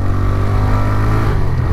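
A motorcycle rides along a road toward Nepal, its engine droning loud and steady throughout with a low, even hum and no break.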